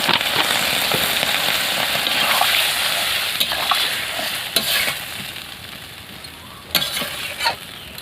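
Water poured into a hot pan of jackfruit curry gives a steady, loud sizzle and hiss, with a few sharper bursts and spatters near the end and no voices.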